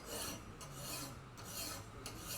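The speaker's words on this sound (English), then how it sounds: "I like to file a little bevel on there" A file rasping a small bevel onto the edge of a wooden spatula, steady repeated close strokes with brief pauses between them and no voices.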